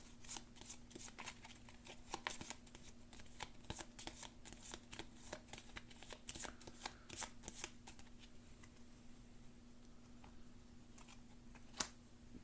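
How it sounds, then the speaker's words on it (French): Cards for the Aeon's End Legacy board game are shuffled up close in quick, quiet riffling bursts, with a faint hum underneath. "Hop, on remélange."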